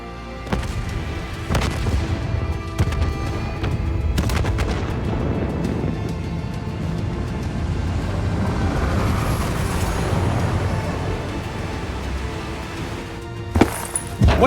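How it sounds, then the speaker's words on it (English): Loud booming explosions across a facility in the video game Call of Duty: Black Ops 3, with crackling bursts, followed by a long rumbling roar, with a few sharp bangs near the end. "Hendricks, we have multiple explosions across the facility."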